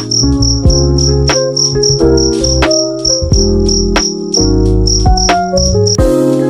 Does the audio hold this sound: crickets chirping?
yes